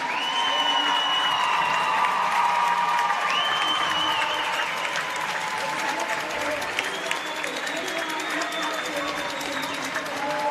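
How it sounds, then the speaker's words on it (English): Crowd at a women's ice hockey gold medal game, Perth versus Melbourne, cheering and applauding steadily throughout, with whistles and shouts rising above the din and an announcer speaking over it. "Listen to this cheer."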